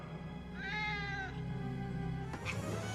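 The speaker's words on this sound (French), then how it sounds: "Un chat?" A cat gives one clear, drawn-out meow, then a short fainter call near the end, set against a quiet background hum.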